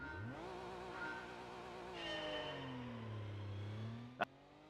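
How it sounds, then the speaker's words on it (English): A car engine in Gran Turismo 3 revs slowly and steadily, its tone rising and then sagging in a long drawn-out sweep, with a sharp click near the end and no voices. "I thought my controller died because of the fact that the car was revving so slowly"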